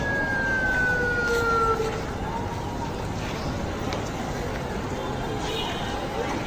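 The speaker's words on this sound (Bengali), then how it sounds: "এই অ্যাম্বুলেন্সে করে রুগী নিয়ে আসছে" An ambulance siren wails over a noisy street during a 2024 protest, a rising-and-falling tone that is clear at first, then fades into steady crowd and traffic noise with voices talking.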